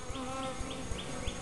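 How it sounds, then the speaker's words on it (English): Honeybees buzzing close around an open top bar hive, a steady insect drone with soft repeated bumps and rustles as the hive is handled, and no talk. "I got bees buzzing all around me"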